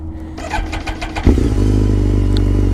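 A BMW K1300S motorcycle, a rare edition rated at 175 horsepower, cranks with a rapid whirring starter, then the engine catches with a loud bark and settles into a close, steady idle.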